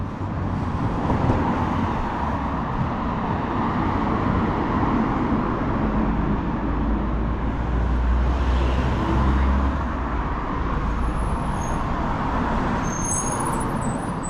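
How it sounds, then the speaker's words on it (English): Road traffic at night along a village street: a continuous low rumble of engines and tyres, swelling as vehicles pass nearby, with no talking over it. "Lots of cars out still."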